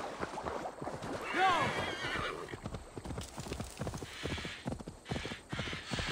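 Horse in Assassin's Creed Valhalla: steady clip-clop of hooves throughout, with a loud whinny near the start, and soft game sounds and voice fragments mixed in.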